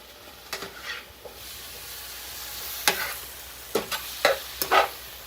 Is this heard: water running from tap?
no